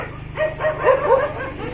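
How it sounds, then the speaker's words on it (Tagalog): Several dogs in a rural Philippine province yip and bark in a rapid, overlapping burst close by. The barks rise and fall over a steady low background hum, and no voices are heard. "Ang iingay naman ng mga aso na to."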